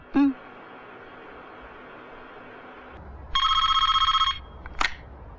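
A telephone rings in a scene from a 1980 Hindi film: a soft steady tone hums before a bright electronic ring bursts loudly for about a second, followed by a short click as the call is picked up.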